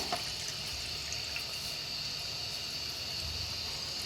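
Water running and splashing steadily into a pan on a gas stove for cooking Maggi noodles, a continuous broadband pour lasting the whole stretch with no talk over it.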